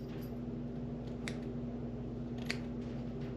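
Scissors snip a man's beard up close along the upper lip, giving two short crisp cuts over a steady low hum, with no talking.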